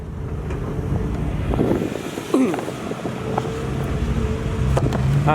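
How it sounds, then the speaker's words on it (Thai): A truck engine with a heavy noodle-pot style exhaust rumbles low and steady, a continuous deep drone mixed with outdoor wind noise. "คันนี้ก็จะเป็นท่อหม้อก๋วยเตี๋ยวนะครับ เสียงหนักมากนะฮะ"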